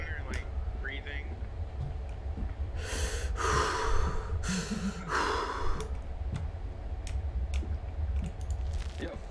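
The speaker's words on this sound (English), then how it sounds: "Okay, I'm hearing like breathing." Heavy, breathy exhalations and sighs from the horror video game Amnesia: A Machine for Pigs, several loud bursts in a row close up, with soft clicking in the background.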